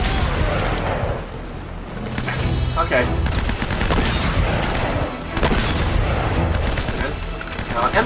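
Gunfire in Uncharted: Drake's Fortune, with dense bursts of automatic rifle fire and heavy booming shots in rapid succession, loud and continuous.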